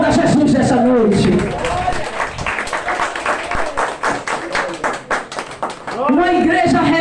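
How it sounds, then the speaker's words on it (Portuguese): A church congregation applauds Jesus during an evening service, a dense burst of crowd clapping rising between stretches of a preacher's loud voice, with talk before and after the applause. "Aplauda Jesus nessa noite."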